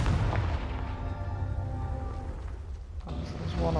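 A deep rumbling blast from the Confringo spell in Hogwarts Legacy, heavy low boom with a sustained roll, followed by a second burst near the end.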